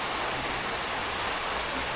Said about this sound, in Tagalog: Kaya lumakas po yung ulan